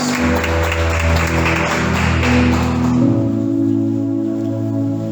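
A church congregation applauds continuously during a sermon service, a dense wash of clapping that stays steady throughout, mixed with sustained organ-like tones underneath.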